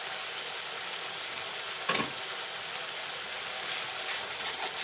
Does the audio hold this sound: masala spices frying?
yes